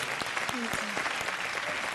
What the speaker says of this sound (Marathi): यासाठी एकदा जोरदार टाळ्या झाल्या पाहिजेत दोघींसाठी